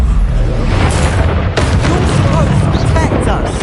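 A fire spell bursts in the Hogwarts Legacy video game, giving loud booming explosive blasts over a dense, rumbling battle din, with voices mixed in.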